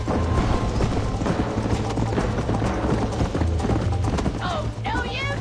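A horse galloping in a race, hooves clip-clopping rapidly and steadily up close under a dense, loud mix of other noise, with voices heard.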